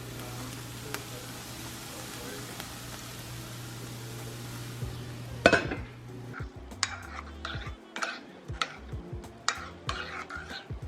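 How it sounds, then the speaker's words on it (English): A salad spinner whirring with lettuce inside, a steady loud rotating hum that stops abruptly, followed by a series of close plastic clatters and knocks as it is handled in a kitchen. "One of my favorite kitchen tools, the salad spinner."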